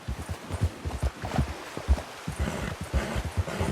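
A horse's hooves clip-clop at a steady walking pace in Red Dead Redemption 2, close and moderately loud, with no talk over them.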